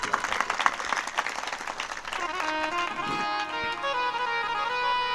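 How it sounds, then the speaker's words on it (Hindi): At a Narmada Purana satsang gathering, an audience claps loudly to welcome the Maharaj, the close crowd applause fading after a couple of seconds into sustained harmonium-like musical tones. "एक बार जोरदार तालियों से"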